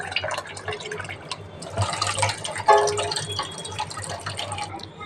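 Water from rinsed lentils drains and drips in a home kitchen, a steady trickle with scattered drips and a brief splashier pour midway, close and fairly quiet.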